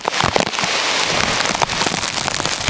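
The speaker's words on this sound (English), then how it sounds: "here definitely comes that rain squall" A heavy rain squall from Tropical Storm Beryl near Savannah, wind-driven and close: dense, steady roaring downpour with sharp spattering hits on nearby surfaces, loud throughout with no talking.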